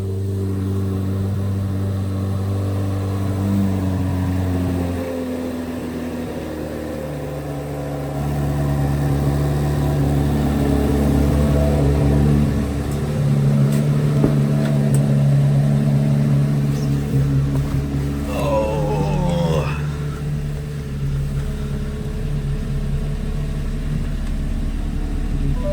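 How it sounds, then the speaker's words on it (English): A Chevrolet Corvette C8 Z06 engine hums and drones steadily nearby, swelling in the middle as the revs rise, then settling back to a lower rumble, with no talk over it. "It is very hard to not like the sound of this engine."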